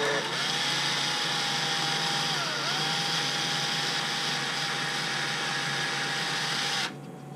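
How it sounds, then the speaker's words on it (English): A steady, high-pitched power drill with a 1/8 inch bit whines continuously for about seven seconds at close range as it bores into foam, its pitch dipping briefly midway, then cuts off abruptly. "we're going to take an 1/8 inch drill bit and we're going to drill in the foam"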